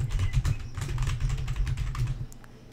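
Rapid clicking keystrokes on a computer keyboard while entering an Apple ID sign-in, close and continuous for a few seconds, with no one speaking.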